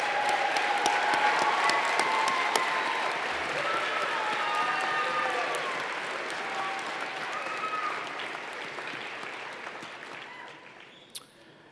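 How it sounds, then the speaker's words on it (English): Sustained applause from a large audience at a College of Medicine spring convocation, dense and steady clapping at moderate distance that slowly thins and fades out, with a few scattered claps left at the end. "How about an applause for all the presenters?"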